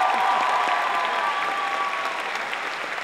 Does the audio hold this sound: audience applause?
yes